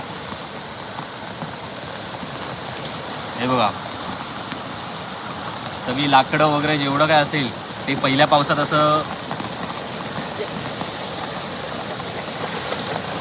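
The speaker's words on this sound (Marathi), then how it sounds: "पाणी जायला मार्ग मोकळा नसतो आणि हे असं पुलावरून पाणी जातं" A Konkan stream in monsoon spate pours over a small bridge, its debris-choked pipe blocked, making a steady close rushing wash throughout while someone talks over it in bursts.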